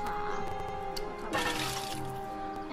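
Water sloshing and pouring in a video game as greens are mixed into it, a steady liquid wash over a faint tonal game background with a brief louder swell midway.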